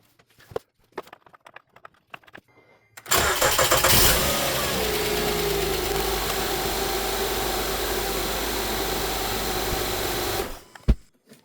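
After an oil change, a 2011-2017 Honda Odyssey engine cranks and catches with a loud burst, then settles into a steady idle for about seven seconds before being shut off.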